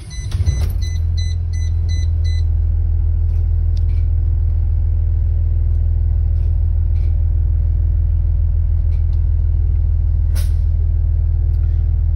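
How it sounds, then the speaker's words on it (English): A school bus engine turns over and settles into a loud, steady low rumble that runs on unbroken, with a short hiss and a few light clicks near the start. "All right, and bus is ready to start."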